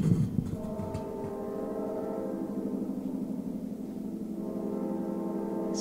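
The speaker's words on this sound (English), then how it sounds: "Sounds like the muffler is falling off the train." A deep, steady train horn blares continuously for several seconds, loud and sustained, with a brief rough burst at the start.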